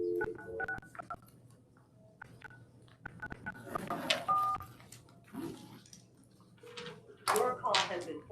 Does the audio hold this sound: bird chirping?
no